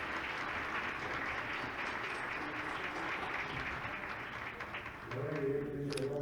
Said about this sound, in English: I want to offer them a big hand of applause from you all